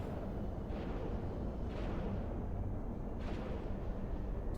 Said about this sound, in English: they're the only torpedoes we're launching then